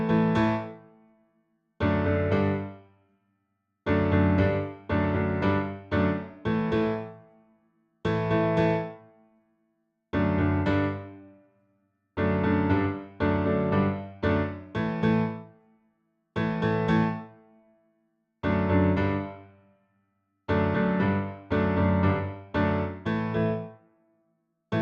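A piano plays the intro of a song in loud, punchy chord stabs. The chords come in clustered rhythmic bursts separated by short silences, heard close and without any voice.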